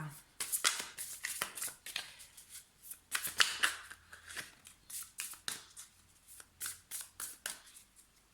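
Tarot cards are shuffled and cut by hand in repeated crisp riffling bursts, close and clear, with brief pauses between passes.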